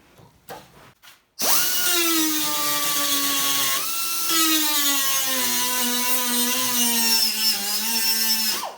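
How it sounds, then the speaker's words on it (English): Die grinder cutting out spot welds on a rusty crew cab truck door, a loud sustained high whine that starts after a few faint knocks and holds steady with slight dips in pitch under load. "Now I'm going to use a die grinder and go at these spot welds."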